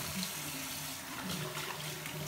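Cold tap water runs steadily from a faucet into a sink while a face is being rinsed. The flow sounds close and continuous, with faint talk underneath.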